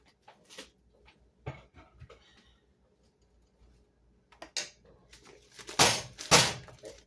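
Freezer door opening in a home kitchen while frozen onions are fetched: a few scattered clicks and handling knocks, then two louder thuds and rustles near the end, with quiet pauses between.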